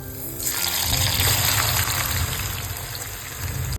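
Salted water pours off sliced onions while they are drained, a steady gushing splash that starts after a brief pause and runs loud and continuous to the end.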